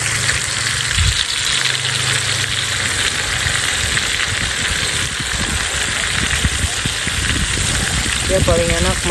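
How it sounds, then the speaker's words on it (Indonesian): Tempeh fries in hot oil over a campfire at a cool outdoor camp in Sumedang, West Java, a steady broad sizzle close by, with low rumbling underneath and brief faint voices. "Sekarang kita mau masak tempe dulu guys."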